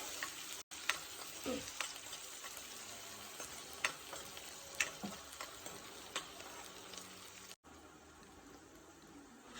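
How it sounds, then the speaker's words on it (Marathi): Onion sizzles in hot oil with cumin seeds in a pan, a soft continuous frying hiss with occasional spoon scrapes and stirring clicks, close and fairly quiet. "आता ह्याच्यामध्ये एक कांदा घालायचा कांदा हा व्यवस्थित परतून घ्यायचा"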